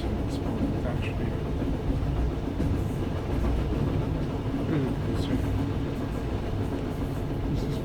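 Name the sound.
train running on rails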